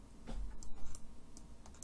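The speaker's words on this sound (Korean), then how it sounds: "새 VI에서 컨트롤 S를 누르시고요." Quiet computer keyboard typing with scattered key clicks, including a Ctrl+S save and a pasted file path, soft and close with no voices.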